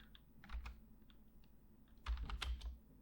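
Typing on a computer keyboard, quiet bursts of clicking keystrokes in two clusters with a pause between, close and faint.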